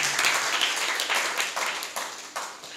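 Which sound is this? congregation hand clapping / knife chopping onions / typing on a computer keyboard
congregation hand clapping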